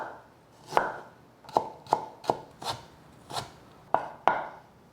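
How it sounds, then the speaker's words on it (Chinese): A knife slicing fresh ginger on a cutting board, eight distinct close knocks at uneven intervals over a quiet room background, each cut a crisp woody thud. "把剩下的姜切片。"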